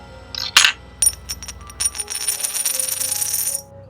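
A coin-like object drops and rattles to rest as a ghost-story sound effect: a sharp metallic strike, then a run of bright ringing bounces that quicken and settle into a shimmering spin before stopping, heard alone and up close.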